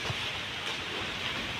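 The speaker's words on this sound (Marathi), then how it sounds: "इतका जोरदार पाऊस सुरू झालेला आहे" Heavy rain falls in a steady, even hiss at moderate distance, with no voices over it.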